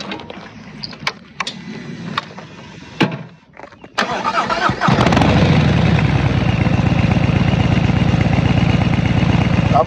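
Harley-Davidson motorcycle fitted with a Malparidos 2-in-1 exhaust: after a few clicks and handling noises, the engine starts with a loud crank and settles into a deep, steady, rumbling loping idle close by.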